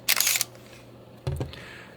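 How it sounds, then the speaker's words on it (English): A Minolta Maxxum 5 film SLR camera's focus mode switch flipped between manual and autofocus, giving two short, close mechanical clicks about a second apart against quiet room tone. "there's a switch down here that allows you to switch between manual and autofocus just like that"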